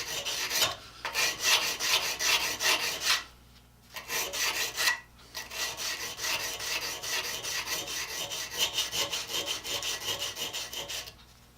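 Sandpaper rasps steadily against the edge of a scraper blade, in quick repeated back-and-forth strokes that run in close, loud bursts with a couple of brief pauses.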